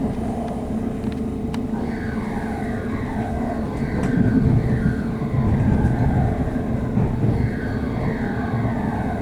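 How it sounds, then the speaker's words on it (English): Sound effects of aircraft swooshing past in the Train Simulator video game: a steady low rumbling roar with whooshing passes that swell louder midway, running continuously without speech. "Sounded like planes swooshing by."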